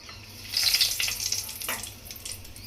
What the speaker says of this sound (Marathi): आपलं तेल गरम झालं आहे त्याच्यामध्ये आपण आता ह्या तेजपत्ता टाकायचा आहे